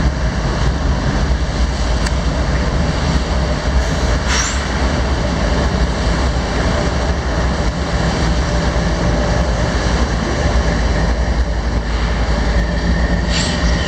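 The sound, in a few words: freight train passing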